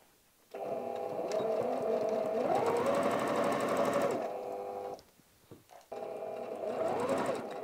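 A sewing machine runs in steady bursts while stitching a tablet cover, a long continuous run, a brief pause with a few short stops and starts, then another sustained run, close and clear with no talking.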